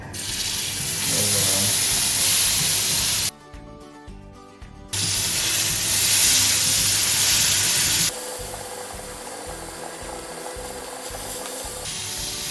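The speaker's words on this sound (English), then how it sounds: "Once it's all heavily salted, we're going to be searing it." Heavily salted center-cut beef tenderloin sears in a hot pan with a loud, steady sizzle, which breaks off briefly, returns, and then settles into a quieter frying hiss toward the end.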